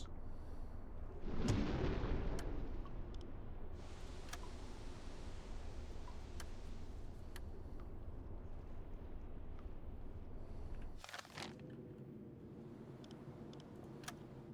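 A torpedo launches from a submarine in UBOAT with a loud low whoosh, then runs as a steady underwater rumble and hiss, with a brief sharp burst near the end.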